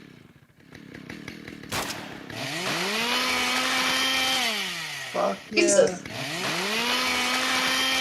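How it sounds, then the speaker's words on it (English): Video game chainsaw from a modded The Last of Us, revving up from idle into a loud, sustained whining roar, briefly dropping and surging again, with a player swearing over it. "Let's just get the chainsaw straight up."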